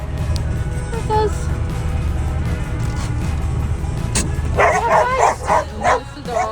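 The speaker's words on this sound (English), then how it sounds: "That's the dogs" Dogs bark and yip near a parked camper van on a rainy day in the Scottish Highlands. A short burst of several sharp barks comes over a steady rain and engine hum, after some quieter background noise.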